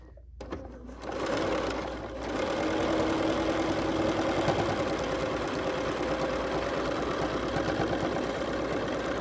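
A sewing machine runs steadily, stitching fabric at a fast, even pace after a brief pause and quiet start. The motor hum and needle rhythm are close and continuous, and no one speaks.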